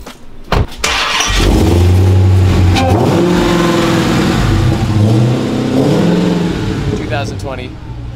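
A supercharged Dodge Hellcat car engine cranks and catches with a sharp burst, then roars loudly up close with rising and falling revs before settling toward idle. A voice talks briefly near the start.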